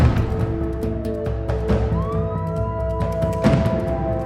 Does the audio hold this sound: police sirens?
yes